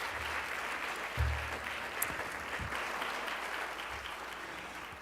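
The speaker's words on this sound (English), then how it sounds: "So big applause to everyone." Audience applause at a county school board meeting, a steady wash of clapping at moderate distance that holds evenly for about five seconds without voices.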